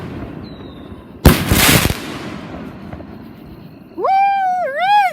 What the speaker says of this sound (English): There's another cannon fire!